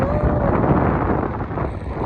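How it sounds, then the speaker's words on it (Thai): Strong wind at the seashore buffets the microphone in a loud, steady rushing roar. "ลมแรงมากดูน้ำทะเลค่ะทุกคน"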